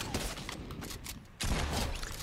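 Gunfire in a video game shooter crackles as rapid, dense bursts of shots, fairly close, with a brief lull midway before a louder volley resumes; no talking over it.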